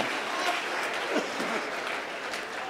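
Audience applause at a Hindi comedy poetry show (hasya kavi sammelan), a steady, dense wash of clapping from a crowd that holds at an even level for the whole stretch.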